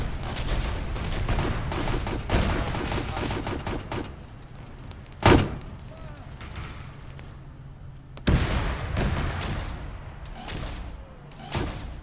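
Bursts of rapid gunfire in a military shooter game, aimed at a hammerhead vehicle, come in dense volleys at first, then a single sharp blast and a later renewed run of shots.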